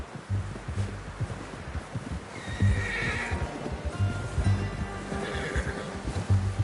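A horse in Red Dead Redemption 2 whinnies loudly over a dense, rumbling background of hoofbeats and ambient noise, with a second neigh following a few seconds later.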